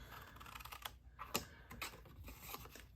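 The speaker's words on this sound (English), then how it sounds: "We're going to cut on these score lines right here." Blades cut a clamshell box along its score lines with quiet, quick snipping and scratching clicks in an uneven rhythm, close and faint.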